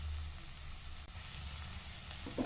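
Onions sizzle and fry steadily in a pan for a vegetable sandwich, a close, continuous crackle with a brief stir or clink near the end.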